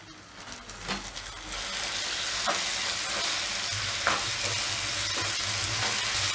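Chopped tomatoes and onions for okra masala sizzle steadily in a hot pan, a continuous frying hiss broken by a few sharp spatula scrapes and stirs.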